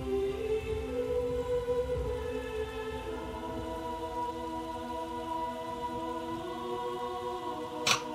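Steady rain falls in Shadow of the Colossus, a constant soft hiss that runs under sustained tonal music for the whole stretch, with a brief brighter burst near the end.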